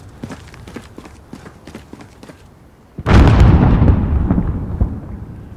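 A quiet stretch of light clicking and tapping breaks into a sudden heavy boom from Call of Duty: Modern Warfare (2019) mortar fire, and a loud rumbling blast then lingers and slowly fades.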